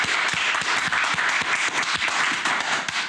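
A podcast studio group claps together in a dense, fast burst of applause that runs steadily throughout, lively and close.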